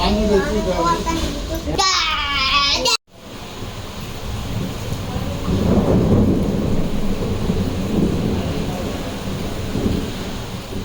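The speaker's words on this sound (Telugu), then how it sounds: "వర్షం అయితే పడుతుంది" Heavy rain with deep rumbling thunder rolling through, after a child's brief high-pitched voice at the start; the storm noise stays loud and steady.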